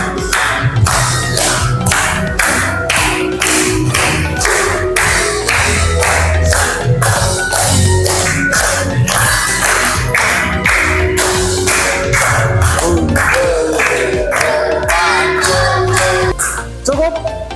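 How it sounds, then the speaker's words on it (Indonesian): Schoolchildren in a second-grade class clap in a fast, steady rhythm while singing a regional song together, loud and close, with a busy blend of young voices over the beat. "Ayo semua tepuk tangan."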